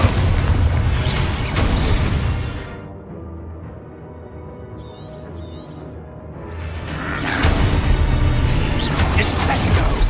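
Booming spell blasts from the Exposo explosion spell in Hogwarts Legacy, loud broadband bursts at the start and again near the end with a quieter rumbling stretch between, amid other spell effects.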